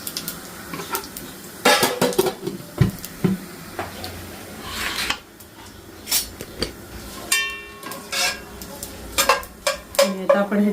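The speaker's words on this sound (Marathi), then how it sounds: "आता तेल तापलंय, त्याच्यात तमालपत्र घालते आणि 1 चमचा जिरं सुद्धा घालायचंय परत." Bay leaf and cumin seeds drop into hot oil in a pan with light sizzling under scattered metallic clinks and scrapes of a spoon against cookware, close up and intermittent.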